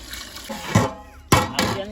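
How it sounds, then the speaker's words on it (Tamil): Water splashes into a large pot of chicken dum biryani in a few uneven pours, with a person talking in the background. "தேவையான தண்ணி ஊற்றிக்கலாம்"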